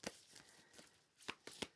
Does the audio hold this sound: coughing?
no